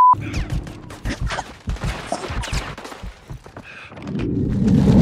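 Gunfire and explosive thuds in a Call of Duty MW3 multiplayer War battle while troops stop an enemy tank escort, dense bursts of shots and booms packed together over steady battlefield noise, swelling louder toward the end.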